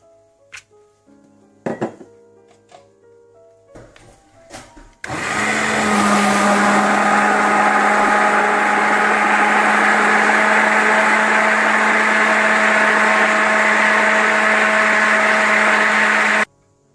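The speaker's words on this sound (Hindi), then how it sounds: "इसे आप ग्राइंड कर लें।" After a few clinks and knocks, a blender roars to life grinding gram flour, yogurt and water into batter, loudly and steadily for about ten seconds before cutting off.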